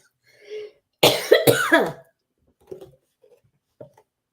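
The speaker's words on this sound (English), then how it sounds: "here it comes the cough." A close, sharp double cough bursts out, followed by quieter breaths and small throat sounds.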